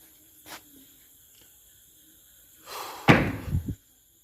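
A door creaks open with a hissing sweep, then bangs with a heavy thud and a couple of quick rattles, set in an otherwise quiet, still room at a reportedly haunted location.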